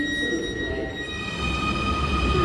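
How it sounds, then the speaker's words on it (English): A Munich U-Bahn subway train passes through an underground station, a loud steady rumble with sustained high metallic whine from the wheels and motors filling the whole moment. "there goes the train to Mangfallplatz"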